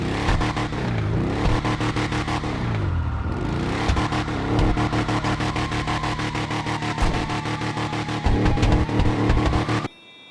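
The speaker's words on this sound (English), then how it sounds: "Let's take a listen to the engine." Slamtruck tow truck engine from GTA 5, a steady loud rumbling drone with rising and falling revs, held continuously for about ten seconds before cutting off abruptly.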